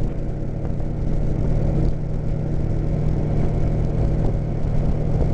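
Honda Goldwing motorcycle engine rumbling steadily while riding, a continuous low drone with wind noise at even loudness and no breaks.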